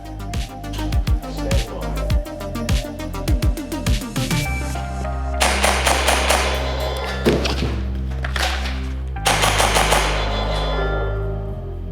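A Krytac KRISS Vector gas blowback airsoft SMG fires rapid sharp bursts, then comes the clatter of a magazine dropped on a table and a fresh one seated, with loud metallic clacks and crackling rapid shots close by.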